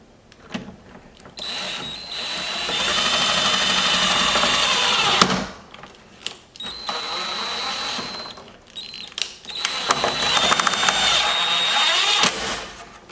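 Power driver spinning in a screw while a rear bumper diffuser is fitted to a C8 Corvette, heard as three sustained whirring bursts of several seconds each with short pauses between, close and fairly loud.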